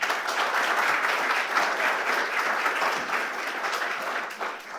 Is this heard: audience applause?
yes